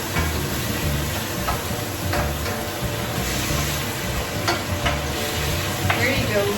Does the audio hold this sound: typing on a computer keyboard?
no